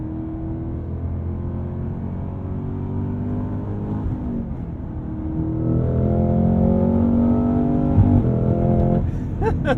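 A V8 engine in a Cadillac CT5 Blackwing sports sedan blips and revs through downshifts while slowing, loud and close from inside the car, its pitch rising and falling with each gear change.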